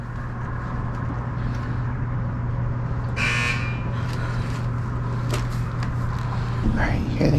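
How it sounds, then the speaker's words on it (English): A doorbell is rung at the door of a fire station, giving a short electronic buzz or chime partway through over steady background hum and traffic noise. "so she's gonna go ring the doorbell"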